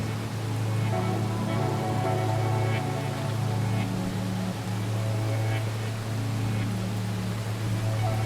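Steady rain pours down, a constant dense hiss with a low even rumble underneath, continuous and unchanging throughout, with no voices.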